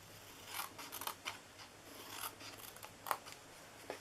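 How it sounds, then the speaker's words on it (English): Long ribbon scissors snip paper for a small chocolate gift box, giving several faint, quick cutting swishes and clicks at close range in a quiet room. "I'm used to my long scissors, my ribbon scissors for this, because they cut in like one swoosh."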